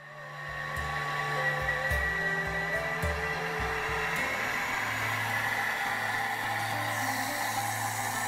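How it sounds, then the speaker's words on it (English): A Thermomix blends coconut at high speed, giving a steady, loud motor whir with a low hum that stays constant throughout after a brief start, with no talking. "once that's all blended, you're going to empty out all the coconut into a bowl and do the second batch."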